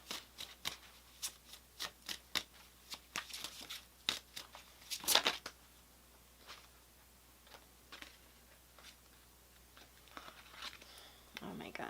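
Oracle cards being shuffled by hand at close range, a run of soft, quick papery riffles and slaps with a brief louder burst midway, set against a quiet room.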